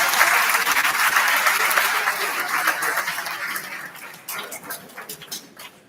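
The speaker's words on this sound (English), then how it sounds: "Please give yourself a big round of applause." Audience applause at a Lagos State Pension Commission gathering of retirees, a dense sustained clapping that starts loud and gradually thins and fades toward the end, with a few scattered claps trailing off.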